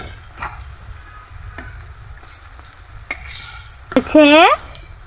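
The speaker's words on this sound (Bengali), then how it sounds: "বড়াগুলোকে কড়াইয়ের মধ্যে দেওয়া হলো এগুলোকে নেড়ে চেড়ে ভেজে নিতে হবে" Chickpea lentil fritters fry in a wok and are turned with a spatula. There is a soft, steady sizzle with scraping stir sounds, and a brief high tonal squeak rises near the end.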